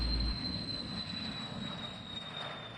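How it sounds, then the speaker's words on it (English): A jet aircraft departs off the south runway at a busy general aviation airport, a steady, even engine roar with a thin high whine that holds throughout, with no voices. "jet traffic departing off the south runway northwestbound"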